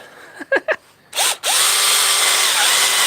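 A power drill whirs up loudly and bites into wood with a steady, close grinding whine, after a few brief clicks and a short burst of motor noise.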